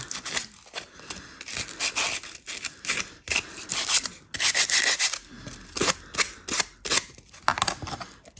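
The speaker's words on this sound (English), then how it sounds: "sand them over so the paint sticks" Curtain beads are rubbed with sandpaper to prepare them for paint. Repeated short, scratchy strokes come close up in an uneven rhythm, with brief gaps between passes.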